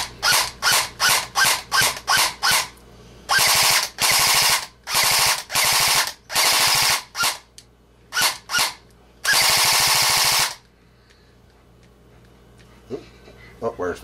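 Airsoft M4 electric rifle test firing on the bench, loud rapid mechanical rattles in a run of short bursts and a few longer strings separated by brief silences.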